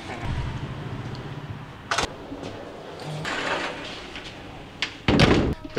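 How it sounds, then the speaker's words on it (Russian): A transparent glass door in a hotel building opens and closes, giving a sharp thud near the two-second mark and a heavier knock near five seconds, with quiet room noise between. "Прикольная дверь, прозрачная."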